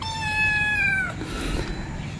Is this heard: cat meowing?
yes